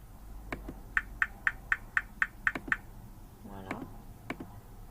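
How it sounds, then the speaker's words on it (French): A software metronome sound from Audacity ticks in a steady, even run of about eight sharp clicks, then a brief low buzzy tone and a few scattered clicks follow, loud and close with no talking. "Tu as le son de métronome."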